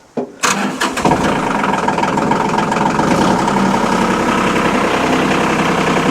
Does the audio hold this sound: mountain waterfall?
no